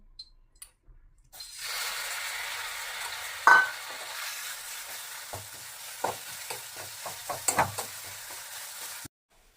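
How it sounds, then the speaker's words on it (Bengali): Soaked dates fry in a little homemade ghee with a steady soft sizzle. Stirring scrapes and sharp clicks of a utensil against the pan punctuate it until it stops abruptly near the end. "আমি সামান্য একটু ঘি এটা কিন্তু ভেজে নেব।"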